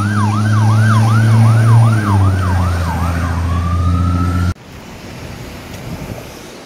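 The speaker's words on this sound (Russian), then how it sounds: "Что-то со всех сторон едут эти пожарные." A fire engine siren wails loudly in a fast rising-and-falling pattern over a heavy engine rumble on a Washington, DC street, then settles into a long tone and cuts off abruptly.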